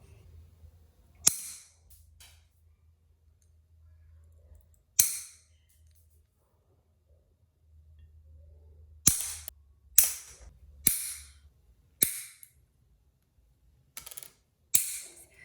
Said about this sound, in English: You do want to get your nail clipper and then just trim off any of the excess